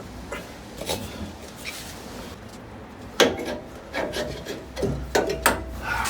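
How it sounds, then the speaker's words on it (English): A hammer and a large screwdriver work a vehicle shock absorber out of its bottom mount, with scraping, grinding rasps and a few sharp metallic knocks, close up and irregular, with no talking. "With a little persuasion from a hammer and a large screwdriver, I'm able to work it out of the bottom mount and remove it."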